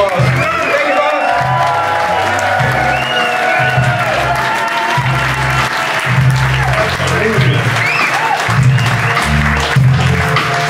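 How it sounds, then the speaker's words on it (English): Pub audience applauding and cheering at a blues gig, sustained clapping with a few whoops over a low, rhythmic band groove, fairly loud and close throughout. "Give them a round of applause."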